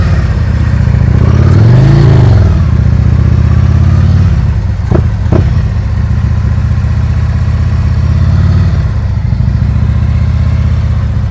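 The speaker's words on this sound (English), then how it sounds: "when it gets even worse, the whole engine starts shaking." A motorcycle engine chugs at low RPM during slow-speed riding practice in Illinois, a loud, steady idle-like rumble with a brief rev near the start and a couple of sharp blips midway.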